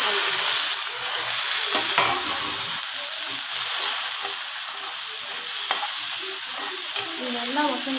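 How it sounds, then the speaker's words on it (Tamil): Shallots, tomato, garlic and tamarind sauté in a pan for garlic chutney, giving a steady close sizzle with intermittent scraping stirs throughout. "இதோடையே நாம் கட் பண்ணி வச்சுருக்க தக்காளி, பூண்டு, புளி இதெல்லாம் சேர்த்து பச்சை வாசம் போகிற மாதிரி"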